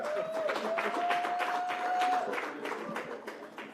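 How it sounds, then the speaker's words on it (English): A conference audience at a women-in-energy summit claps in a scattered, moderately close round of applause, with a faint sustained tone running through the first half. "Let's put a round of applause again one more time for Ntato Minyuku."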